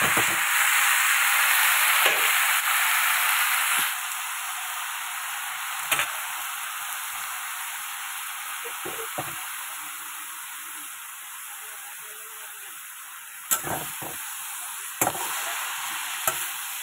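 Cabbage and potatoes frying in a pan, giving a steady hiss and sizzle with scattered clinks and scrapes of stirring, with no talk.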